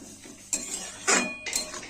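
A spoon stirs spices into mixed vegetables in a metal pan, making three distinct scraping clinks about half a second apart, close and clear with no talking.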